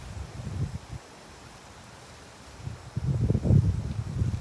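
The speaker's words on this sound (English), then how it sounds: "You can hear the wind blowing through the pines." Wind blows through pine trees off a lake outdoors, a soft rushing breeze that fades to near quiet for a moment, then swells again into a fuller, gusty rustle.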